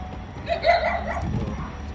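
A dog on a rooftop terrace gives a short burst of yelping barks, fairly close and standing out clearly from a low background hum.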